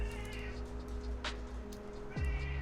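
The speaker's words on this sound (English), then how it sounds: "Meow indeed." A cat meows indoors, with one clear drawn-out call near the start and a second near the end, heard close and fairly loud over a steady background hum.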